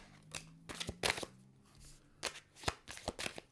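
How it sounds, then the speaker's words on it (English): Tarot cards shuffled in several quick riffling bursts, close up and fairly quiet, with no one talking. "let me just shuffle that up"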